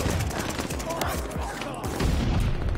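Dense, rapid gunfire crackles through a Call of Duty Vanguard multiplayer match, sustained bursts and booms layered with a voice talking over the action.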